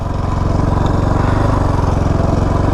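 Kawasaki KFX 450R ATV engine coasting in third gear without the clutch, idle set a little high: a steady, loud, close single-cylinder thumping drone with an even pulsing rhythm throughout.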